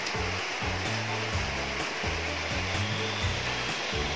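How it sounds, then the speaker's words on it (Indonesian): A computer power supply on a mainboard repair bench is switched on, and a steady fan whoosh runs throughout with a low, rhythmic pulsing hum underneath, fairly quiet and with no talking. "kita nyalakan power supply-nya"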